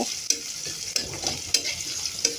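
Chopped onion frying in hot oil for a prawn dish, stirred to brown, a close, steady sizzle broken by four sharp spoon-on-pan clinks at roughly regular intervals.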